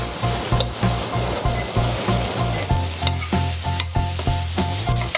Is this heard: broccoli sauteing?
yes